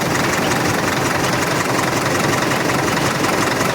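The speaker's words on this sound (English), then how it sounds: "Just sitting there idling." A Caterpillar D4 pony motor that has barely run in years and needs a water pump rebuild idles steadily nearby, a continuous rough, even chug with no pauses and no voices.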